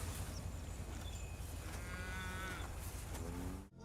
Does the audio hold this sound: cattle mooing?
yes